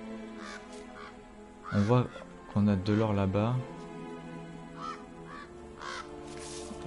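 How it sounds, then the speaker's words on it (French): Crows caw loudly in a few harsh, drawn-out calls in the video game MediEvil, while someone talks casually over the game sounds. "Bon, on va essayer d'ignorer les corbeaux."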